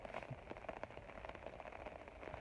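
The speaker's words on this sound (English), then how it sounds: "as you may hear, it is raining" Rain falls outdoors near Sky Lake in March and patters steadily on an umbrella and the surrounding ground. Scattered droplet taps sit over a quiet, continuous hiss.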